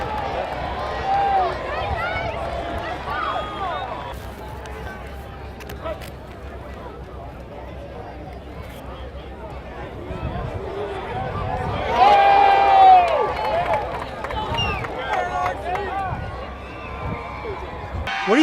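Crowd of fans at a Redskins training camp Fan Appreciation Day, a steady outdoor murmur of many voices with a brief louder swell of cheering near the middle, speech mixed throughout.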